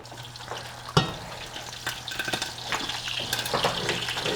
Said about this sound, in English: So you can see this is definitely sizzling.